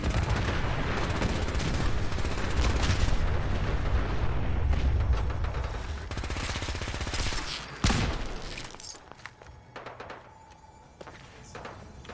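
Gunner enemies open fire in the video game Fallout 4, loud sustained automatic gunfire and blasts crackling densely, then thinning into scattered shots as the barrage fades.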